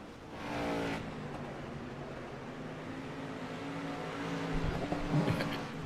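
A pavement street stock race car at South Boston Speedway drones steadily from a moderate distance, swelling briefly near the start and rising again toward the end, with no one speaking.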